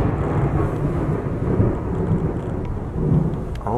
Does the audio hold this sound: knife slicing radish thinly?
no